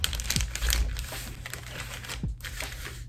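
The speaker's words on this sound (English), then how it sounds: "flatten this paper out, fold it inward once, fold it inward again." Paper for wrapping pasteles being flattened and folded inward twice, giving close, soft crinkling and rustling in a few short bursts over a steady background hum.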